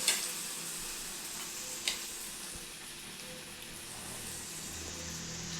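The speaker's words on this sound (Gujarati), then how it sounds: "જે આપણે આ કોન બનાવ્યા છે એને આપણે ડીપ ફ્રાય આ રીતે કરીશું તેલમાં" Spicy cones deep fry in hot oil with a soft, steady hiss and sizzle, faint and close, marked by a couple of small clicks, no voices.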